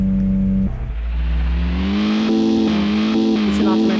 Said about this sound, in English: if I just let go of the keyboard, the car starts reversing